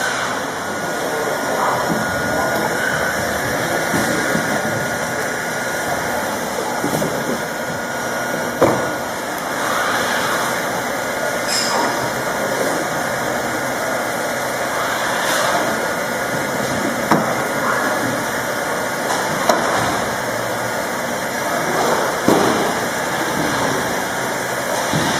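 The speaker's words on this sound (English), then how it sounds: "we're just going to weld a cleat across the entire belt" A cleat welder fusing a cleat across a lightweight conveyor belt in a belt shop, a steady loud mechanical hum and whir running throughout with a few faint clicks and knocks.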